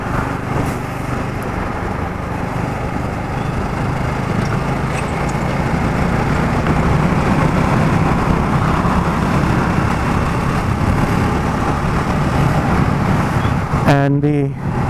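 A vehicle engine drones steadily while passing a truck on a village road, with continuous road and engine noise throughout and a brief burst of other sound near the end.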